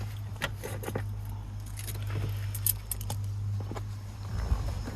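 Car keys for a 1984 Volvo 240 jingle and rattle in short bursts over a steady low hum, close and fairly quiet.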